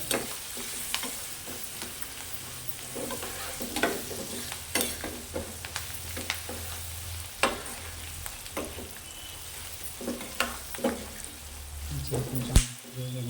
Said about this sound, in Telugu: అన్నీ వేసిన తర్వాత కలుపుకోవాలి.